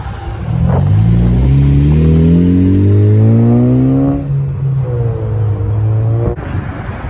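A Honda Civic Si at a cars and coffee meet revs up loudly and close by, pulling through rising gears with a brief shift dip before accelerating away.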